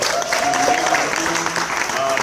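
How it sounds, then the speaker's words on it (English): Audience applause at a 25th anniversary film screening of Poetic Justice, a dense wash of clapping and cheering from a crowd, loud and steady throughout, with some voices mixed in. "One more time, a round of applause for 25 years."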